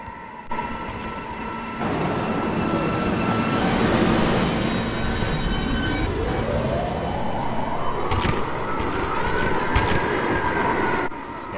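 A Roblox simulated NYC subway D local train runs steadily, with a dense broadband rumble and a motor whine that climbs in pitch as it gains speed, with faint clicks late in the run.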